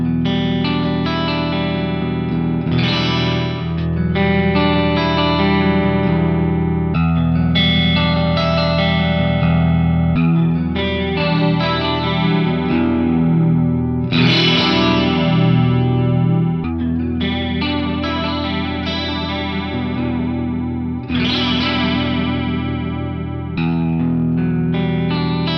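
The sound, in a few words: guitar chorus effect without direct signal, heard as vibrato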